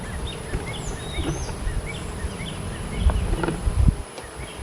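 Honey bees buzz steadily around an open hive during an inspection, a dense close drone with brief thumps and knocks near the end, and no talking.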